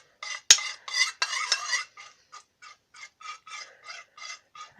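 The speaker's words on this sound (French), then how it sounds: "Avec la cuillère contre le métal" A spoon scrapes and stirs against a metal bowl while slime is mixed, with a sharp clink at the start, then a run of rhythmic, rasping strokes that grow shorter and fainter, heard close with no talking.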